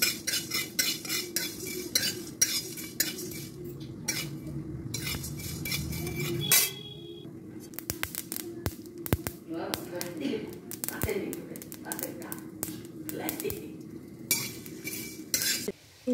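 Spices are dry-roasted for a village-style jujube pickle, with a metal spatula repeatedly scraping and clattering against a dry wok in close, busy strokes while a person talks.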